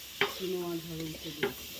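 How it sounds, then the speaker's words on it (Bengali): Bitter gourd frying in a pan, a low sizzle with two sharp stirring scrapes, and a tonal hum running through the middle. "এদিকে উচ্ছে ভাজা বসিয়ে দিয়েছে"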